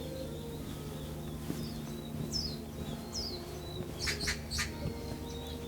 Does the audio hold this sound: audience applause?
no